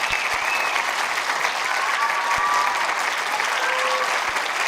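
Cinema audience at a film premiere in Pontcharra applauding, steady dense clapping filling the whole span, with a few faint tonal sounds in the background.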